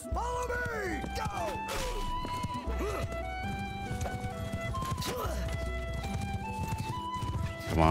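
In the Mount & Blade II: Bannerlord video game, a horse's hooves clop in a quick galloping rhythm while repeated shrill neighs and whinnies rise and fall over the top, with game music and some talking underneath.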